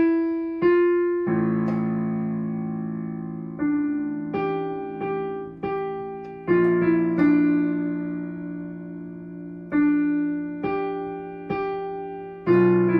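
Piano plays the second part of a song at a slow tempo, with separate struck notes and chords that ring and decay one after another, clear and unaccompanied.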